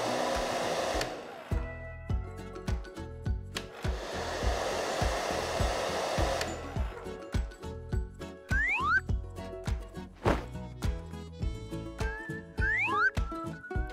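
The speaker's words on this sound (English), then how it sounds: "Use a hairdryer to dry the dress." A hairdryer blows on a small paper dress in a stop-motion craft scene, its steady whooshing airflow running in long bursts, mixed with clicks, taps and bright toy-like sound effects and music.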